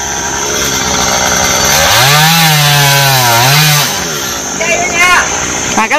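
Chainsaw bites into a large, soft tree trunk, its engine climbing to a loud sustained whine mid-cut before dropping back to a rough idle, with a voice talking over it.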